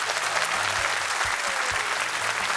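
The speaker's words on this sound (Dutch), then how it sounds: "graag uw applaus voor Tom Bonen, Dirk de Wolf, Jan Bakelands en Mark Uytterhoeven" Studio audience applauding steadily for a panel of four cycling pundits on a talk show, a dense, even wash of clapping with a few low thumps, no voices over it.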